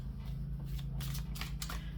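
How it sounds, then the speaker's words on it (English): Tarot cards being shuffled by hand, a quick run of soft papery riffles and flicks over about two seconds, close up, with a steady low hum underneath and no talking. "Just feel like shuffling one more"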